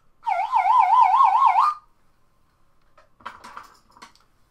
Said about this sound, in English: Or this slide whistle.